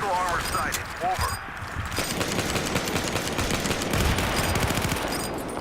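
Pistol fire in a Battlefield game with USMC weapons rattles out as a dense, rapid stream of sharp shots, with a voice briefly audible at the start before the gunfire dominates.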